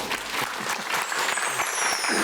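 Audience applause at a Korean science lecture, a dense burst of many hands clapping, close and steady throughout the short stretch with no talk over it.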